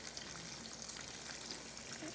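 Bread fries in a pan with a soft, steady sizzle, a faint close crackle running evenly and unbroken for a couple of seconds.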